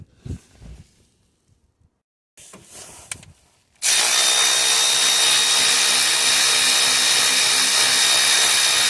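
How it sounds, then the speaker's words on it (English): A power tool undoing a 16mm bolt on a Peugeot Partner 1.6 HDi alternator: after a few quiet knocks and short handling noises, a loud continuous whirring starts and runs steadily to the end. "Now we can open 16mm bolt here and another 16mm lower down there"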